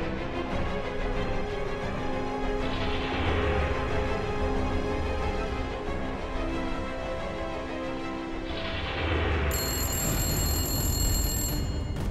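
A telephone bell rings in repeated long bursts with short gaps, loud and close, and nobody picks up.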